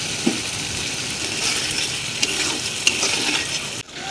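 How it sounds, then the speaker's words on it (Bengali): Potatoes stir-fried in spices in a pan for fish curry, a close, even sizzle with a few sharp clicks of the spoon scraping the pan, continuous for a few seconds before a sudden stop. "শুধু এটাকে কষবো যতক্ষণ না আলুটা সিদ্ধ হচ্ছে"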